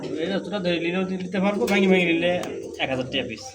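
Pigeons coo in a Bangladeshi pigeon sale, blue red-bar and red pairs, their soft rolling calls blending under steady close male conversation throughout.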